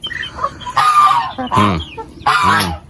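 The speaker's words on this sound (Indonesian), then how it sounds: "Ini ayam-ayam kita nih yang ada di kandang Peternak Gokil" Free-range village chickens cluck and squawk close by in a coop in several loud bursts, with a rooster-like call among them and quieter clucking in between.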